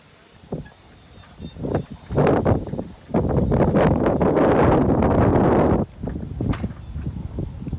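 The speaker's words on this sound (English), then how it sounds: "the skies are still cloudy and it's still windy" Gusty wind buffets the microphone outdoors at a Starfest astronomy gathering, irregular low rumbling bursts that build into a loud sustained roar for a few seconds before easing back into choppier gusts.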